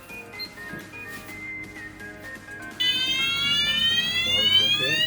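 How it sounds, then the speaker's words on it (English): A conventional fire alarm system sounds during testing and commissioning, a steady electronic tone that jumps sharply louder partway through and then continues as a loud, insistent harmonic alarm, with faint background noise beforehand. "We are now going to energize this fire alarm."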